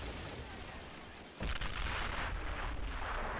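Artillery and rifle fire rumble through a war video game battle between US Marines and French forces on a rocky incline, a steady loud barrage that jumps to heavier, denser blasts partway through, with no talk over it.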